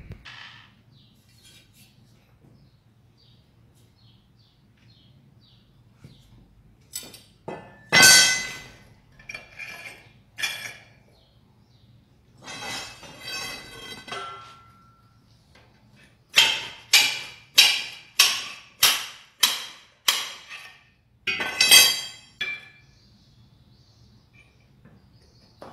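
Hammer blows on steel during the build of a homemade F1 replica ring out as sharp metallic clangs, scattered at first, then a quick run of about eight strikes, close and loud over a quiet hum, with no talking.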